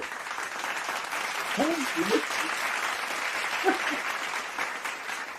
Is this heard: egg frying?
no